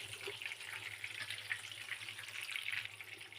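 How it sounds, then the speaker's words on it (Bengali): Chicken pieces frying in hot oil give a steady, soft sizzle that holds at an even level throughout, with no voices present. "এখন আমি তেলের থেকে নামিয়ে নিচ্ছি।"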